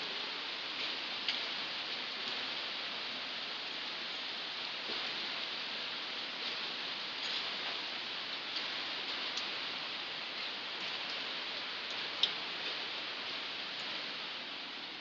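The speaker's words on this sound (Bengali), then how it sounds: "ঝন ঝরিয়ে বৃষ্টি পড়ছে।" Heavy monsoon rain pours steadily outside a home, a dense, even hiss with no letup and a faint tick or drip here and there, no voices.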